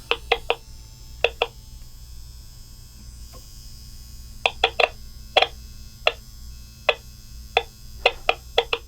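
The motor of Charly, a vintage Italian toy robot, runs with a low electrical hum and buzz under a pattern of sharp, irregular clicking blips from interference. It sounds close, with no talking.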